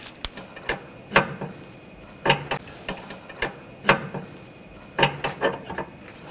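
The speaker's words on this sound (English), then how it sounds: "And snug up that jam nut." A ratchet wrench snugs up the tie rod jam nut on a 2014-2020 Nissan Rogue, producing close, crisp clicking bursts in an irregular rhythm separated by short pauses, with no talking.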